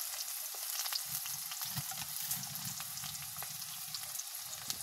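Onion and garlic sizzle steadily in hot oil, a soft continuous frying crackle with no talking.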